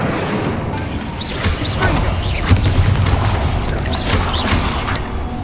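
Incendio fire spell cast in the Hogwarts Legacy video game, a dense burst of whooshing, crackling flame and booming impacts, loud and close, swelling and fading over several seconds.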